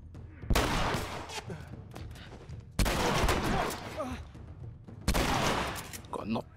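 Shotgun blasts in The Last of Us Remastered, three loud, booming shots spaced a couple of seconds apart, each with a long rumbling decay, over a muffled background.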